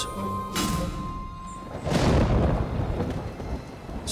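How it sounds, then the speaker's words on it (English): Cartoon thunder in an animal cartoon, a deep rumbling roll that swells midway and slowly fades, preceded by a few softer thumps and a faint musical tone, with no voices. "The patter of his hooves makes the sound of thunder"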